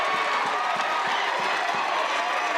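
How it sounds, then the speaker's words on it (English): Crowd at a college baseball game, Nebraska Big Red fans, cheering and clapping after a hit in an NCAA regional game against Oklahoma; a steady, loud wash of crowd noise with scattered claps throughout. "the Big Red faithful that are here finally have something to cheer about"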